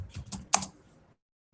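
Typing on a computer keyboard while entering a word into a spreadsheet: a quick, close run of several soft key clicks with one sharper tap, then silence.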